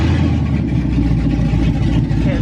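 LS V8 engine in a lowered 1962 GMC truck running with a deep, steady rumble and slight rise in revs, loud and close, continuous across the moment.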